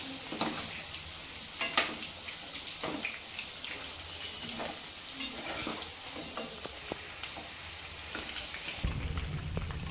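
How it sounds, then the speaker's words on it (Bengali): Pakoras sizzling in hot oil while being turned, a steady crackling fry broken by intermittent sharper pops and scraping stirs, close and moderately quiet, with a louder shift near the end. "উল্টে পাল্টে ভালো করে পকোড়াগুলো লাল লাল করে ভেজে নিতে হবে।"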